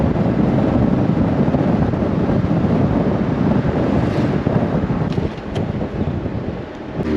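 Strong wind buffets the microphone in a continuous loud roar, steady throughout with a slight easing near the end.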